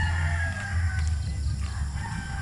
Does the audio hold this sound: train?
no